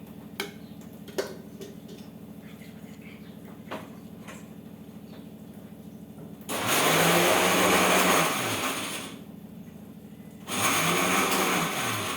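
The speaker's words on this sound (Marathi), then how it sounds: "आता थोडंसं मिक्सरचं एक चक्कर मारून घ्यायचं." Mixer grinder coarsely grinding steamed corn kernels runs in two loud bursts with a brief pause between, its motor roaring and churning over a steady background ticking.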